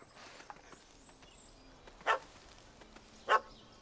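Two short, loud dog barks, spaced about a second apart, ring out from a puppy in The Witcher 3 over quiet game ambience.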